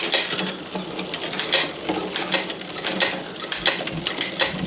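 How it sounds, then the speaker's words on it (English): Bicycle derailleur shifting back into high gear after a barrel-adjuster cable adjustment, a busy, close stream of rapid metallic ratcheting clicks from the spinning drivetrain. "Okay, click back down into the high gear."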